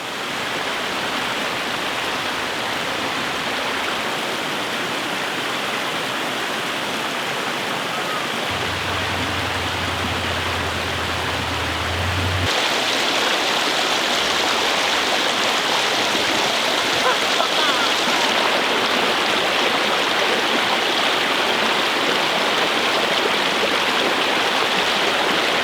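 A small roadside creek along the Crowsnest Highway flowing steadily, a loud, continuous broadband rush of running water that holds for the whole stretch, with a brief low rumble partway through.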